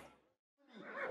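A horse at a traditional horse fair in Bulat-Pestivien, Brittany, gives a short neigh, fading out, then after a brief silence a louder rising whinny follows, moderately close.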